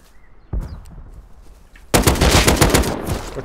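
Gunfire in the survival game Rust: a single sharp shot rings out, then after a short pause a loud, rapid burst of automatic fire rattles on to the end.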